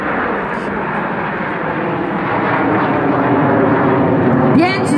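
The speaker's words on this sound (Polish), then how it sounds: "Pięć samolotów na lewo, cztery samoloty na prawo, a solista po środku znoszą się do góry." Frecce Tricolori aerobatic jets fly in formation at the 2018 air show in Radom. A loud, continuous jet roar swells gradually throughout and stays dense and broad without a break.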